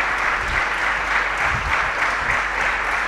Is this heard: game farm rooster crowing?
no